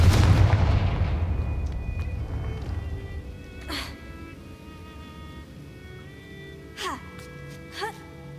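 Confringo spell explosions in the game Hogwarts Legacy, a big booming blast that decays over a couple of seconds, followed by a few smaller sharp bursts later on, with no speech.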